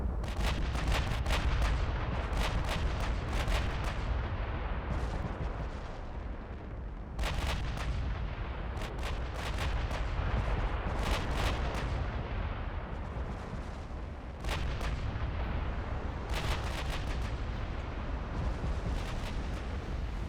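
Naval guns fire HE shells in the warship game Ultimate Admiral: Dreadnoughts, loud booming salvos arriving in irregular clusters over a dense, continuous rumble of battle.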